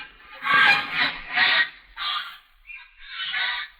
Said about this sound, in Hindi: वो देखिए राजा साहब, चिड़िया उड़ रही है।